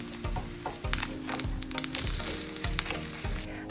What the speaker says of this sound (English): Heat a pan with oil and spread the batter thinly.